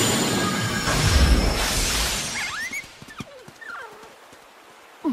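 Wild dogs in a drama CD sound effect bark and snarl after a loud rushing crash of noise, with several sharp yelps and barks fading at a moderate distance.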